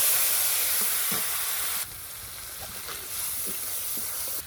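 Fish frying in hot oil, with a continuous close sizzle and hiss that drops slightly in level partway through, a few soft stirring knocks, no voices.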